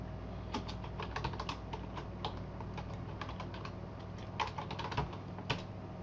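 Fingers type on a computer keyboard in quick, irregular bursts of close, crisp key clicks with brief pauses between words, over a faint steady hum. Nobody speaks.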